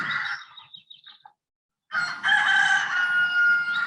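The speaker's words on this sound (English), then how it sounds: "So roosters doing their thing in the morning." Roosters crow loudly nearby in the morning, a short call breaking off, then a second long drawn-out crow rising and holding, with faint farmyard ambience beneath.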